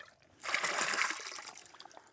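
Stream water scooped into a container on a solo backpacking trip through hurricane-damaged mountains: a close splashing, trickling pour swells after a quiet start, holds for about a second, then tapers into scattered drips.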